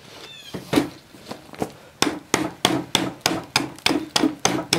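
A primitive hand-forged adze chops into wet, rotten wood with a steady series of about a dozen sharp, close blows, each a dull thwack with a quick decay, coming faster and evenly spaced in the second half.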